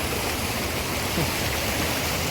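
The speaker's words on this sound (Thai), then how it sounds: "น้ำตกหัวช้าง" Hua Chang waterfall in Pai, Thailand, pours as a steady, even rush of falling water, a dense broadband hiss with no pauses or other sounds.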